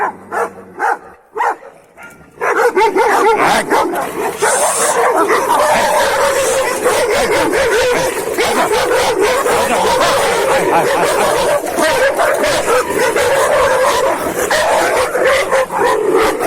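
After a brief quiet moment, several street dogs fighting break into loud, rapid barking, yipping and whimpering close by, a frantic scuffle of overlapping voices.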